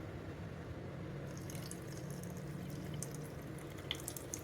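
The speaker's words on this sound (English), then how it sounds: "Now I'm going to pour the matcha." Matcha pouring steadily into a glass, a continuous trickling stream with light splashy drips toward the end, close and moderately quiet.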